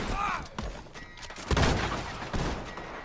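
Gunfire in Red Dead Redemption 2 during an online posse battle: scattered, fairly distant gunshots crackling at irregular intervals, with a couple of louder cracks near the middle and end.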